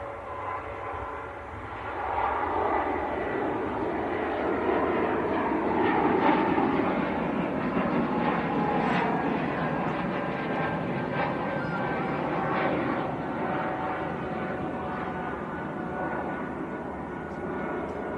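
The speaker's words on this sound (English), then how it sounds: "Here goes Air France Airbus A220 to Paris Charles de Gaulle." An Air France Airbus A220 departs Manchester Airport for Paris Charles de Gaulle, its broad jet engine roar swelling after a couple of seconds and holding steady at moderate distance, then slowly easing off as it climbs away, with no talk.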